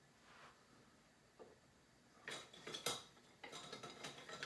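Kitchen knives and cutlery are rummaged and handled, giving a close series of light metallic clinks and rattles that grow busier toward the end, with no talking.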